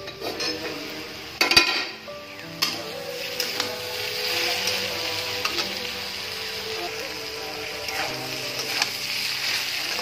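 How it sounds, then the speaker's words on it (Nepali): Potatoes for a winter mixed fry of potato, peas, carrot and peanuts cooking in a pan, with a steady sizzle and a sharp clink of a utensil early on, close and continuous with no talk. "आलुलाई बीच बीचमा छोप्दै पकाउँदै गर्नुपर्छ।"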